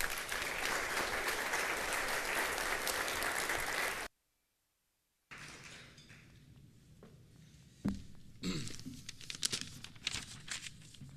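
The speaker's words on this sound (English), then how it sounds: "Please give a round of applause to Mayor Parrish." Audience applause for Mayor Parrish at a Great Lakes conference opening ceremony, a dense loud clapping wash for about four seconds, then a short gap of silence followed by fainter scattered room noise and shuffling.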